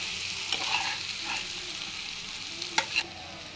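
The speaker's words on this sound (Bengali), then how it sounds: "মাছের ডিম দেওয়ার পরে এটাকে কিছুক্ষণ আমি ভেজে নেব।" Fish roe frying in a pan, a steady close sizzle broken by a few scraping stirs and clinks, louder near the end, with no voices.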